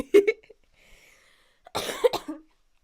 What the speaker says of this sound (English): We've still got the cough